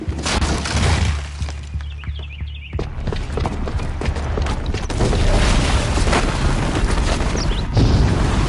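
A booby-trapped bomb goes off in Horizon Zero Dawn with a heavy boom and shattering debris, followed by a rumbling, crackling aftermath, hurried footsteps and layered game effects at high volume.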